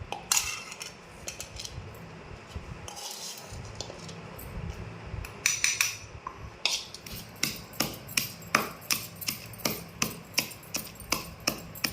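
Coriander seeds and cumin being crushed and ground on a stone for coconut chutney, a run of rough scraping strokes giving way to a steady rhythm of sharp knocks, close and fairly loud, with no voices.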